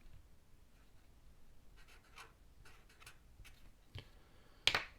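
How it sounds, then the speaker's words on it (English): A pen writes a number on paper with a few soft, close scratching strokes, followed by a sharp click near the end. "So we'll write down"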